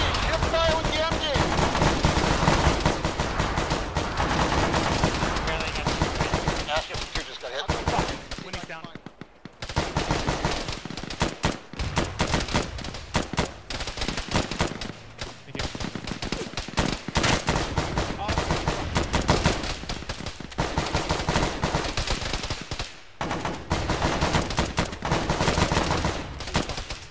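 Machine-gun fire in the Arma military game, dense bursts of automatic shots rattling almost continuously with brief pauses, mixed with other gunfire while voices talk over the radio.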